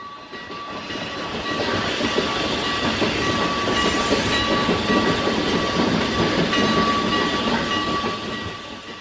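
Train running steadily on the rails, with a dense, continuous rumble and rattle of wheels and cars, loud and close throughout, with a thin sustained tone above it and a brief brighter hiss midway.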